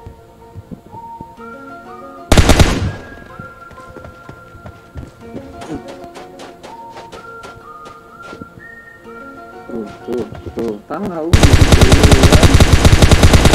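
Gunfire in PUBG Mobile played on an emulator: a loud burst of shots, then scattered shots and footsteps over game music with a whistling tone, then sustained rapid automatic fire at the end, with a brief voice at the start.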